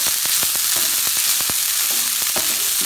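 Hot dog, green onions, bell peppers and quinoa stir-fried in a hot pan, giving a steady close sizzle broken by sharp scrapes and clacks of the spatula, with no talking.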